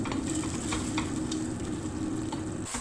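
Tomato paste sizzling and frying in a pot for Turkish dried bean stew, a steady close hiss with a few soft scraping stirs, no talking.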